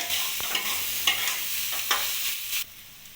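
Cauliflower paratha filling with green chilli and chopped coriander is stirred in a hot pan: a steady soft sizzle broken by several scraping strokes, cutting off abruptly near the end.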